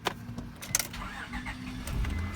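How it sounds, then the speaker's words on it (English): A car engine being started with a 12 volt jump-starter battery pack: a short cranking whir that catches into a low idle, preceded by clicks and a brief jangle of keys, close by with no talk. "So the car is started."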